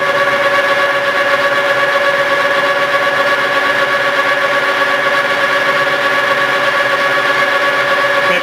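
A metal lathe spins at about 450 RPM and takes a light-feed cut during an ATV Mattracks repair. It gives a steady, unbroken tonal machine hum with no pauses and no voices.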